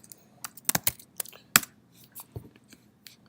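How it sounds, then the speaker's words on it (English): Keys clatter on a computer keyboard in a short burst of irregular, close taps, some sharper and louder than others, over a quiet background. "If I go to google.com and I type"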